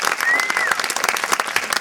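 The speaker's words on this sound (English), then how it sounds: "So, round of applause." A crowd at a film festival program launch gives a round of applause, individual claps standing out as a lively patter close by, loud and unbroken.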